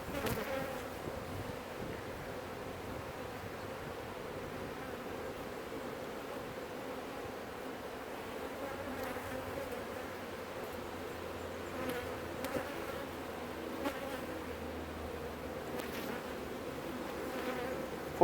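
Honey bees hum around an open, overcrowded hive being split, a dense steady buzz filling the whole stretch, with faint rustles now and then.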